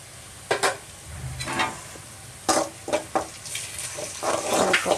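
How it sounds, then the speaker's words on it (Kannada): Onion, green chilli and ginger-garlic paste fry in a pan for a village-style drumstick-leaf egg stir-fry, a low steady sizzle broken by several short scraping stirs, close and fairly quiet, with no talking. "ಇದು ಚೆನ್ನಾಗಿ ಫ್ರೈ ಆಗಲಿ"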